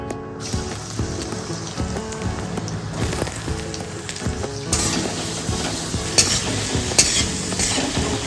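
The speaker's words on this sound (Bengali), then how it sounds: "একটু পেঁয়াজটা ভাজা ভাজা করে চিকেনটা ভেজে নিচ্ছি আমি" Chicken frying with chopped and ground onion in a pan for chicken korma, a steady close sizzle with frequent stirring scrapes and clinks, louder bursts of crackling toward the end, no talking.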